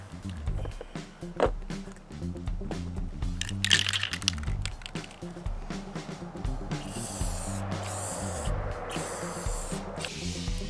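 Spray paint hissing in bursts as a red coat goes onto ceramic tiles, with broadband sustained hiss in the later part and rattling handling noise underneath; a steady low hum runs throughout, with no speech.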